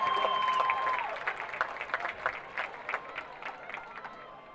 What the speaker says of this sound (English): Give a round of applause for your junior prince and princess, Dax and Kira.